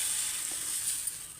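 Dosa batter sizzles on an oiled pan over a gas flame, a steady close hiss throughout with no talking.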